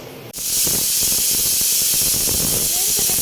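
A pressure cooker on the stove cooking Bengali-style khichuri bursts into a loud, steady jet of hissing steam after a brief quieter moment, continuing strongly and close up to the end.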